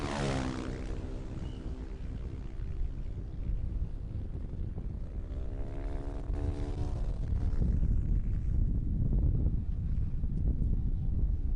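Racing motorcycles at turn 9 during the 2022 Indian National Motorcycle Racing Championship, with engines roaring and rising in pitch as bikes pass, under heavy wind rumble.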